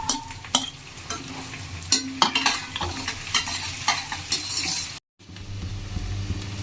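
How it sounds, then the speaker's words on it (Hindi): Onion fries in a pan with a constant sizzle, stirred by a utensil that scrapes the pan in sharp, repeated strokes; the sound cuts out briefly near the end. "अब प्याज को फ्राई कर लेंगे।"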